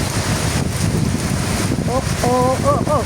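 Strong wind and heavy rain beat around a home terrace in the Philippines, a dense, unbroken roar that fills the whole stretch, with a brief voice rising near the end.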